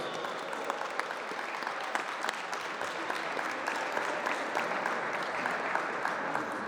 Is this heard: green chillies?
no